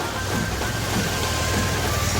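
Rain falls in Pratiksha Nagar, Sion, Mumbai, a dense, steady hiss of heavy rainfall on surfaces that fills the short stretch evenly without pauses.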